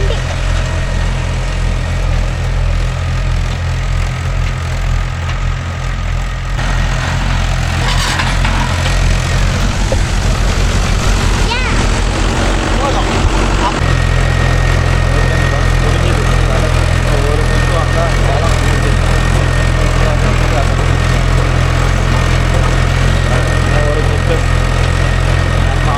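A Mahindra Yuvo Tech Plus 585 4WD tractor engine runs with a steady, loud low drone while working a 9-tine cultivator, continuous from start to finish with a brief shift in tone partway through.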